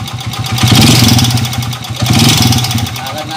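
Repaired Honda TMX125 motorcycle engine running smoothly at a steady idle, loud and close, with a low even throb that swells slightly twice.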